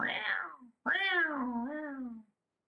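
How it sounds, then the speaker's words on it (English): A cat gives two drawn-out meows close by, the first short and the second longer with a wavering, plaintive pitch, and then there is silence. "Look, there's a cat."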